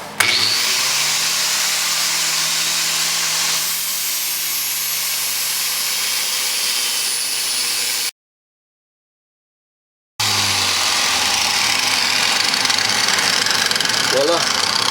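A homemade shop tool fitted with a sanding disc whirs steadily as it sands a piece of wood, with a loud continuous motor drone that cuts out for a couple of seconds and then starts up again.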